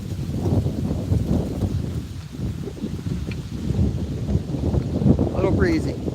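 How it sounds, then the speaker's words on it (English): Breezy outdoor wind buffets the microphone steadily at fishing water, a continuous rumbling roar throughout. "A little breezy."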